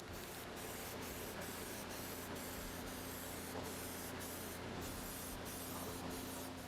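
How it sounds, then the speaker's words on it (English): Steady hiss of an aerosol can spraying car-matched paint onto a fiberglass in-car speaker piece, continuous and close, with brief rhythmic breaks between passes as light coats go on. "shook it up really well, and you want to apply it just like you do spray paint. Do a light dusting, and then come back and put a nice coat on."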